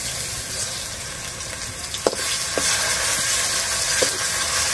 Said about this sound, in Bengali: ভালো করে ভেজে নেব, নাহলে রসুনের একটা গন্ধ থেকে যায়